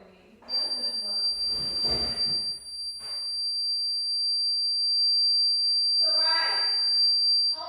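A home alarm emits a piercing, steady high-pitched electronic tone that sounds without a break throughout, while several people talk loudly over it.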